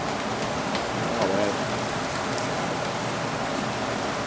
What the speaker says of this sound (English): Now it's raining very heavily.